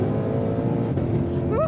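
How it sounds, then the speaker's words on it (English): Ford Mustang GTD V8 engine roaring steadily under acceleration from inside the car, a dense continuous drone that rises slightly near the end. "To get that kind of American V8 soundtrack in a very world-class tuned handling machine."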